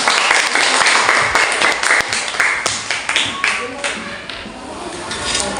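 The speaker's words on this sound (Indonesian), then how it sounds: "Berikan tepuk tangan dong." A class of student teachers applauds during a micro-teaching lesson, with dense, steady clapping from many hands filling the room at close range throughout.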